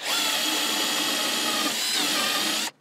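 A power drill with a Forstner bit bores steadily into wood for almost three seconds, a loud continuous whine that cuts off sharply at the end.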